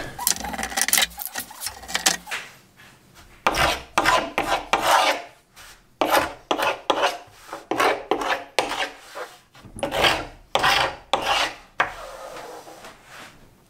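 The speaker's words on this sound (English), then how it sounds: "So this is called a hook scraper, and it works really good at scraping off glue." Hook scraper rasping dried glue off walnut wood, in bursts of repeated close, loud scraping strokes separated by short pauses, with no speech.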